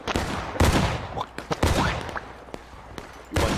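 Civil War musket fire in the War of Rights multiplayer game, several loud, sharp cracks and booming volleys spaced irregularly, some near and some farther off, with faint voices in between.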